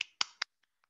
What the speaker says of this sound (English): virtual hand clap here